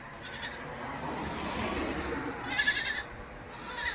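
Goats on a farm, large females of around 100 kg with their kids, give a short bleat near the middle over a low, quiet background hum.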